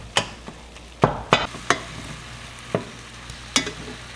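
Chili cooking for dinner in a home kitchen, a steady sizzle of frying under sharp scattered clinks and taps of stirring, close and fairly loud with no voices.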